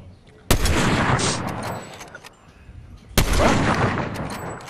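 Two sharp, loud gunshot blasts from a video game battle, each followed by a long rumbling echo across open terrain, with faint spoken voices in between.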